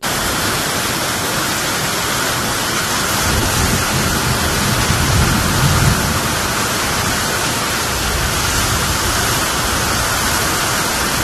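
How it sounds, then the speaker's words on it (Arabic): Heavy rain during a hailstorm in southern Saudi Arabia pours down as a loud, dense, unbroken roar of hiss that stays constant for about eleven seconds, with no voices. "وتتأثر مناطق عسير والباحة وجازان ونجران وعدد من المناطق الأخرى في المملكة بأمطار غزيرة مصحوبة بالرعد والبرق وزخات البرد"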